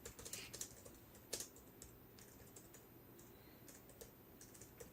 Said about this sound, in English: you're already typing